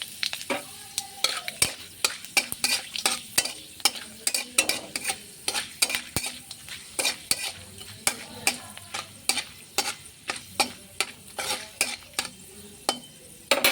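Panch phoron, dry red chili, bay leaf, cardamom and cinnamon frying in oil give a constant sizzle. Sharp, frequent, fairly regular metal clinks and scrapes of a spoon stirring against the pan sound close and prominent throughout.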